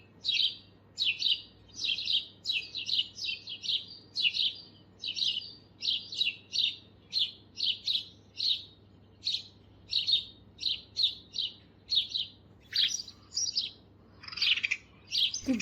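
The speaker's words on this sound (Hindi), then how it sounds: "आ जाती हैं बर्ड्स और अलग टाइप की आवाज़ें निकालने लगती हैं।" Several small birds chirp close by in quick, repeated bursts of high tweets around a nest of chicks, the calls growing sharper and more agitated toward the end, with no voices.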